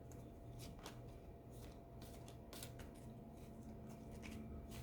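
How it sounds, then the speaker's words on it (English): Oracle cards from a deck are shuffled and drawn, giving a run of soft, quick papery flicks and riffles at close range, repeated in short bursts against a quiet room. "Let me get one more oracle card and see what we have here."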